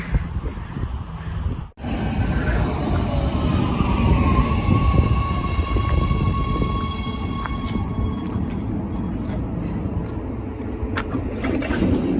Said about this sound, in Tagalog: 1 minute na lang padating na yung train.